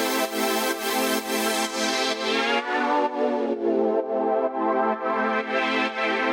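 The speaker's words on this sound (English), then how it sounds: "so I added another saw layer an octave up and another wavetable" Funky synth chords built from stacked saw waves, with an extra saw layer an octave up and an added wavetable in Serum 2, playing sustained and bright with a rhythmic pulse, loud and alone throughout.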